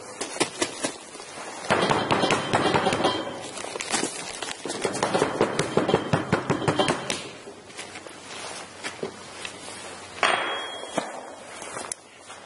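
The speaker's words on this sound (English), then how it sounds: "I'm going to go ahead and put a cover over this and we'll shake this up" Vigorous shaking of a covered container of mixed ingredients for a crystal cell, a dense rattling clatter in bursts over several seconds, close and fairly loud, with brief pauses between rounds.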